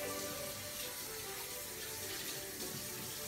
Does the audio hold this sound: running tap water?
yes